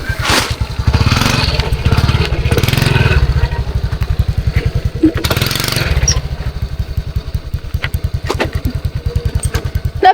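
A motorcycle engine runs close by for the whole stretch, a steady throbbing pulse that holds its pace, with a brief roar as the revs rise midway.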